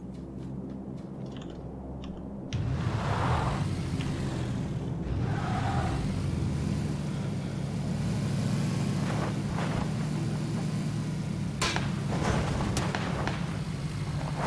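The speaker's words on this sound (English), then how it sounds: "I just stole this guy's car. I'm just kind of off-roading it." A stolen car is driven off-road in PlayerUnknown's Battlegrounds, its engine droning steadily at close range after a sudden start, with rumbling over rough terrain and a few sharp impact clicks and crackles toward the end.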